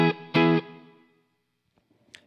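Electric guitar on the neck pickup, played through a Rivera Silent Sister isolation cabinet with a 12-inch Celestion Vintage 30 and mixer reverb: two close, loud strummed chords, the second held and then ringing out into a fading tail.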